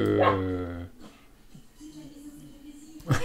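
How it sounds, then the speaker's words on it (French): A small dog barks and whimpers in the background, with yips coming in short bursts behind someone speaking French at the start and again at the end. "j'ai mon petit chien qui aboie derrière"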